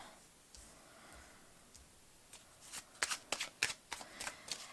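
Tarot cards shuffled in the hands, starting with a few soft riffles and building into a run of crisp, quick flutters and slaps that grow louder toward the end, close by in a quiet room.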